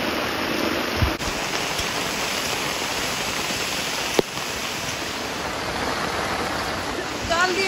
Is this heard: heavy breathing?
no